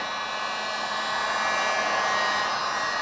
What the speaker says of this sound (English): a heat gun or even a blow dryer. You want to go ahead and use low heat.